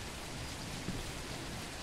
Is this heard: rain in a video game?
yes